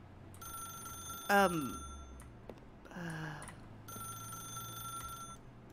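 Telephone ringing in The Stanley Parable video game, two separate bell-like rings with a pause between them, moderately loud against a quiet electronic hum.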